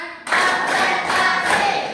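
A classroom of students claps together in a rhythmic pattern during a lesson break, loud and close, starting abruptly and continuing as steady synchronized claps without talk.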